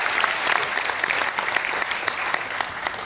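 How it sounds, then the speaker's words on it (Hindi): Dense, loud audience clapping at a motivational talk, a continuous close wash of many hands over a few seconds with no voices. "चल एक बार थोड़ा सा ताली बजा दीजिए"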